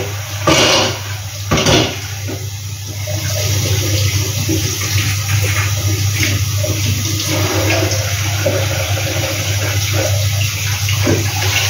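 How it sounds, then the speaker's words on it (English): Running water gushes steadily from a tap while someone washes their hands at home, a loud close rush that carries on for the whole stretch, with a few knocks at the start and no talking. "So okay, so I need to wash out my hands."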